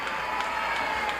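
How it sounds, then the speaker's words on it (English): Crowd at a women's wrestling match cheering and calling out steadily in a continuous wash of voices, moderately loud, with no clear individual speech. "Crowd encouraging her to maneuver out of the"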